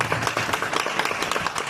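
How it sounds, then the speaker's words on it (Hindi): Audience applause at a Bhojpuri song release event, a dense burst of many hands clapping close and loud, steady and continuous throughout. "एक जोरदार ताली हो जाए भैया."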